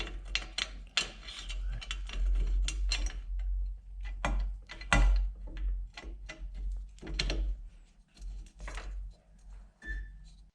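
A bolt being threaded into the subframe of a 2003 Honda Shadow 1100 motorcycle, heard as a close series of irregular ratcheting clicks and metallic mechanism sounds with short pauses between them.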